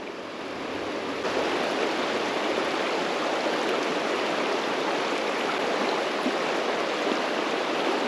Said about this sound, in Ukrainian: Така до коліна вода, перекат.